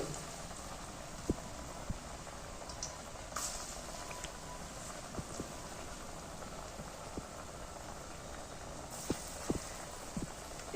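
Raw banana koftas fry in hot oil in a wok, giving a dense, steady sizzle and crackle broken by occasional sharp pops, close and continuous without speech.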